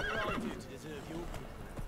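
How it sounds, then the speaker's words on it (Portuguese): A horse whinnies with a fluttering, rising call while hooves clop in The Witcher 3, a brief burst with someone talking over the game sounds. "Mano, esse cavalo é muito louco."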